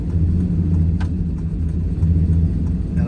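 Car fitted with a big-cam LS V8 coasting down to a stop, its lumpy idle a steady low rumble throughout with no revving, close and continuous.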